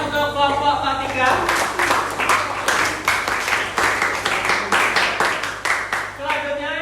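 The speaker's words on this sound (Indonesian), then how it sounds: "kita beri tepuk tangan untuk kelompok ketiga" Students applaud a presenting group in a geography class, with irregular scattered claps building and thinning over several seconds while voices talk over them throughout.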